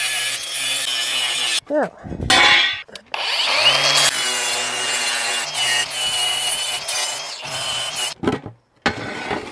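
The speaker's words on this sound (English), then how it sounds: "I'm cutting from the inside because that's where I drew my line." A hand saw cuts wood for a custom motorcycle-powered ATV seat, with rhythmic rasping strokes up close, broken by short pauses and a brief spoken word.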